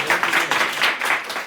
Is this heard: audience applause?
yes